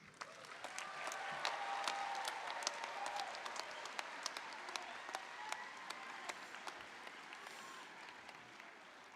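A large commencement crowd at a university graduation applauds its graduates, a broad, distant wash of clapping with occasional sharper claps nearby, steady for the whole stretch.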